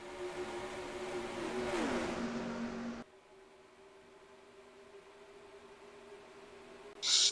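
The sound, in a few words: NASCAR race cars racing at Auto Club Speedway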